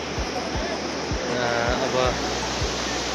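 A river flows behind a hillside spot in Nepal, below a hydropower site: a steady broadband rush of water runs throughout, with soft low thumps recurring and a person talking over it.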